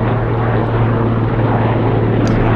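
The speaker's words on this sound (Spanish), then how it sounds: "Está pasando un helicóptero, miren." A helicopter passing overhead in Barcelona, a loud continuous rotor and engine roar with a steady low drone holding throughout, alone without talk.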